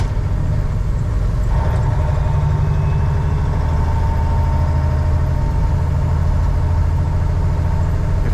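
A 2001 Western Star 4964EX truck engine pulls in gear with a loud, steady low rumble and drone that holds unbroken throughout, heard close from the cab with no talking.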